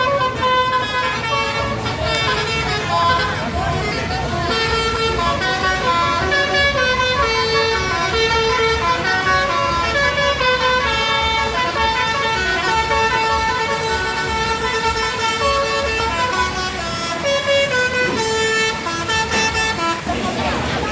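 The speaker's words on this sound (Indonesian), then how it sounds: "Terlihat dari kejauhan masuk dua unit bus terbaru dari PO Palala." Horns on newly arrived buses play a loud, continuous melodic tooting tune for the whole stretch, over a rumbling engine background.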